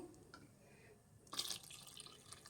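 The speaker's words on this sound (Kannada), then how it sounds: "ಇನ್ನೂ ಒಂದು ಸ್ವಲ್ಪ ನೀರು ಹಾಕ್ಕೊತಾ ಇದ್ದೀನಿ ಒಂದು ಗ್ಲಾಸ್ ಅಷ್ಟು" Water poured from a glass into a pot of goat head curry, a short splashing pour that swells briefly in the middle of otherwise quiet, dripping kitchen sound.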